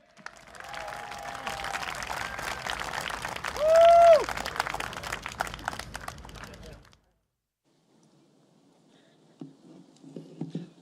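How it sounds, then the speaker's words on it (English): A rally crowd at a stadium claps for the next speaker, Brian Lim, and the applause runs for about seven seconds under a voice on a PA before cutting to near silence, followed by a faint murmur. "We'll give a round of applause for our next speaker, Mr. Brian Lim."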